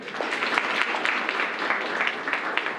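An audience claps steadily at a law college degree ceremony, a dense, even patter of many hands filling a hall for a few seconds without a break.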